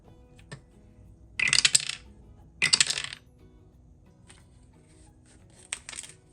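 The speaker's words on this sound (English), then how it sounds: "I'm just going to do the dice." Dice rolled during a cash-stuffing savings challenge, two short rattling clatters on a hard surface a second apart, then a few fainter taps and a small settling rattle later, close and with no talk.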